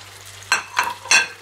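Tomato sizzles in olive oil in a pan as a utensil stirs it, making three quick, close scraping swishes over a soft background of frying.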